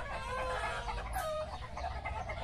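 Chickens clucking near a henhouse, a dense chorus of hens with a rooster crow rising over the flock, heard from a short distance and steady throughout.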